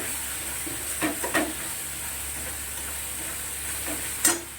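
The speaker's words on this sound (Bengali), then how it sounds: "মশলাটা কিন্তু ভালো করেই কষানো হয়ে গেছে।" Spice masala frying in a pan gives a quiet steady sizzle, with a few soft scraping knocks of stirring near the start and one sharper clatter near the end.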